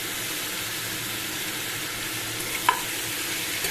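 Prawns, cut and washed, go into a hot pan and fry with a steady broad sizzle, a short sharp clink of the stirring spoon near the end, close and with no voices.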